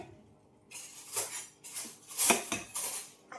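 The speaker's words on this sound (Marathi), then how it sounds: "मी आता ही लिंबू या मोठ्या भांड्यामध्ये टाकते कढाईमध्ये" Several bursts of clattering and rattling as lemons tumble into a large metal wok, loud and close, with short gaps between.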